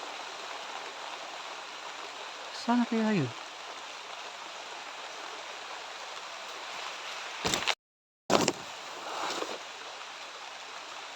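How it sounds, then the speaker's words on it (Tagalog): Steady rain pours down with a constant hiss, while a voice speaks briefly and a few short bumps and rustles break through. "Malakas na yung ulan."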